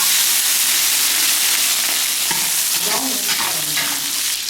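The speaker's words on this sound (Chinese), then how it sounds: "油热放葱姜蒜" Scallion, ginger and garlic sizzle in hot oil in a home kitchen, a loud continuous hiss and crackle with stirring scrapes, no talk.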